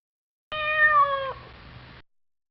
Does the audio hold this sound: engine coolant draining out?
no